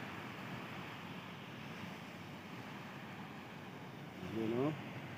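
Ocean waves wash onto Patar Beach in Bolinao at dawn as a soft, continuous surf rumble at a distance, with a short voice rising over it near the end.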